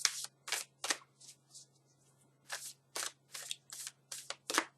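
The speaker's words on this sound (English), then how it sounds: "I'm just going to shuffle the cards now for you." Repeated bursts of tarot cards being riffled and shuffled, crisp papery fluttering in quick clusters with short pauses between, close by and fairly quiet.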